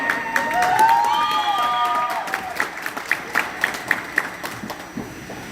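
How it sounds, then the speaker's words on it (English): A crowd applauds a youth baseball tournament championship, with some cheering, a whistle-like tone early on, and the clapping thins toward the end. "Give yourselves a round of applause."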